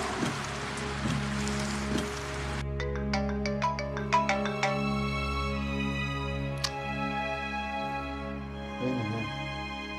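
A phone rings in a quiet room at night, a bright repeating electronic ringtone melody that starts after a burst of rain-like hiss and carries on clearly, close and alone.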